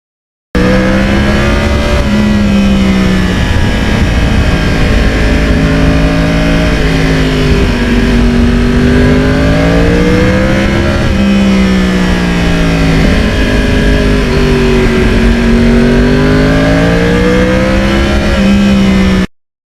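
A Yamaha R1 crossplane sport motorcycle, twelve years old, pulls hard under acceleration, its loud engine rising and falling in pitch through repeated gear changes, close and constant for nearly twenty seconds.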